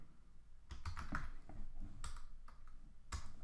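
Keys clatter on a computer keyboard as CSS code is typed, a quick run of quiet, close clicks in uneven bursts.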